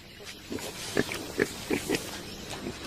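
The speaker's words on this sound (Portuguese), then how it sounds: "Trata-se do menor porco do mundo, até recentemente considerado extinto." Rare pygmy hog, the world's smallest pig, on an Indian forest floor, giving a series of short grunts and snorts in quick bursts, close and moderately loud.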